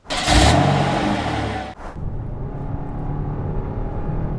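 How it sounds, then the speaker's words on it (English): A 2021 Kia K5 GT-Line sedan with its 2.5-liter engine accelerates, a loud surge of engine and road noise that drops off abruptly, then settles into a steadier lower cruising hum. "The motor struggles a little bit getting off the line"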